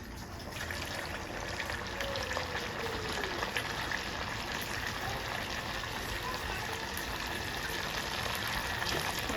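Rava vadai batter frying in hot oil, a steady, even bubbling sizzle that holds at a constant level throughout with no talking over it.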